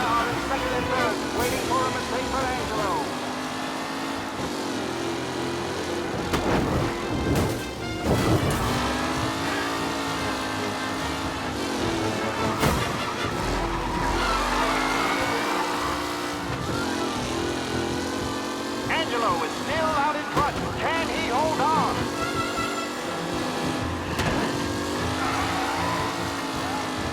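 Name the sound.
race cars racing in the video game Mafia Definitive Edition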